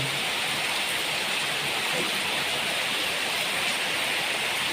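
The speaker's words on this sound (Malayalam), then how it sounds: "മഴയാണ് കേട്ടോ" Heavy rain pours steadily, a dense, loud, continuous hiss of water falling on surfaces with no pauses and no voices.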